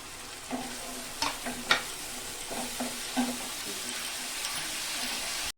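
Ginger-garlic paste and dried red chilli paste frying in a pan as the spice mix is stirred, a steady sizzle with intermittent spatula scrapes, no talking.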